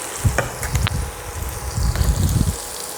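Asafoetida powder crackles and sizzles in hot oil for sambar, a close, uneven frying sizzle with soft clattering bursts throughout.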